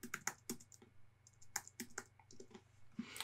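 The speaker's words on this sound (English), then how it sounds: "now I'm going to type in the IP address of the computer" Someone types an IP address on a computer keyboard, a quick run of close, crisp key clicks in short bursts with brief pauses and a faint steady hum underneath.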